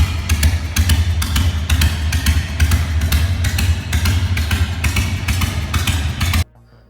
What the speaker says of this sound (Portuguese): Combustões em tempos desiguais, mas bem espaçadas, que geram o som embaralhado famoso da Harley.